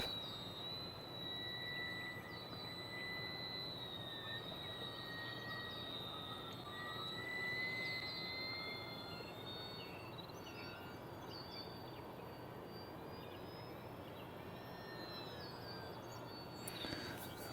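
An Arrows RC Bearcat model flying after a grass takeoff on a misty morning, a steady thin whine over a broad airy rush that stays fairly distant and even, with no talking.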